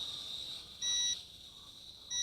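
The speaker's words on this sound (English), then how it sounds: "It's got a headless mode beep." Two short, high electronic beeps from a SkyRC D20G FPV camera drone controller signalling headless mode, the second cut off at the end, over a faint steady whine and quiet background hiss.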